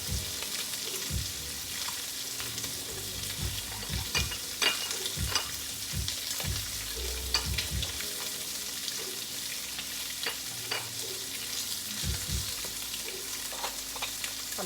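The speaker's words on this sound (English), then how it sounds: "I'm going to give these sausages one more stir, and then I'm going to take them out." Sausages fry in a pan for Cajun chicken pasta, a soft continuous sizzle broken by scattered close clacks and scrapes of stirring, irregular and moderately quiet, with no voices.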